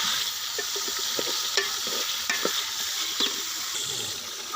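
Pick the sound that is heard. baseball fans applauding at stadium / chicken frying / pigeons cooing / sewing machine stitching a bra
chicken frying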